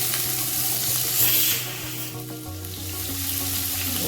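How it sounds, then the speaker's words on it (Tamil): Chopped onions sauté in hot oil for chana masala, giving a steady, close and fairly loud sizzle that continues throughout without any talking. "நல்லா வதக்கிக்கலாங்க. வதங்கட்டும்."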